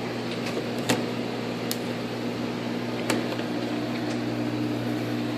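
A Panda portable spin dryer spinning wet laundry in an RV gives a steady loud motor hum and whirr with a couple of sharp clicks, running continuously with no talk.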